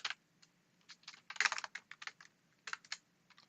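Keystrokes on a computer keyboard while typing CSS code, coming in short irregular bursts of crisp clicks with brief pauses, close and fairly quiet over a faint low hum.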